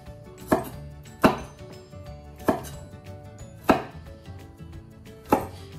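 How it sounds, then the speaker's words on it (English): Broccoli stems chopped into small pieces on a cutting board, five crisp knife thuds at roughly one-second intervals, close and clear with quiet pauses between strikes and no talking. "I kind of just chop them into smaller pieces so they're all a similar size"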